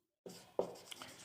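Pen or chalk writing by hand during a math lesson on quadratic equations: a few short scratchy strokes in close quiet succession, with no talk over them.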